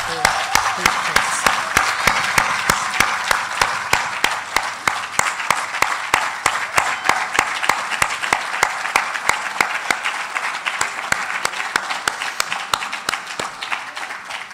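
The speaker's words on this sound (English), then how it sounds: "So let's give another round of applause for Beatrice." Hall audience applauding Prof Beatrice Opeolu at her inaugural professorial address, a steady dense wash of clapping with sharp individual claps standing out, sustained throughout.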